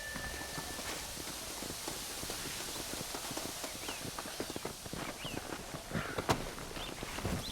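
Steady clip-clop of horse hooves walking along in the video game Red Dead Redemption, with rustling outdoor ambience and faint birds in the background.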